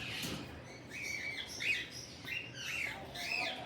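A breeder pair of red-factor parrots in moult gives a run of shrill squawks and chirps, several calls in quick succession at moderate distance, over a faint background hiss with no speech.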